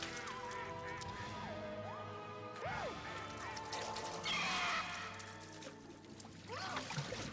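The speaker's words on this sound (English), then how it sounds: "I never heard a duck make that noise." A duck in the horror film Creepshow 2 lets out strange, warbling honks and cries, several rising and falling calls mixed with a crash-like burst and thick background noise.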